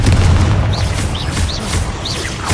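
A Confringo fire spell explodes in the video game Hogwarts Legacy, a loud, sustained blast with a low rumbling boom and crackling debris, with no talk over it.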